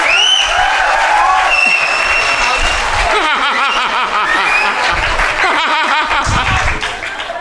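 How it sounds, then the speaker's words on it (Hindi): A poetry recital audience at a kavi sammelan claps and cheers loudly, with laughter and chuckles mixed in and lively crowd voices over the clapping. "एक बार जोरदार तालियां बजा दो"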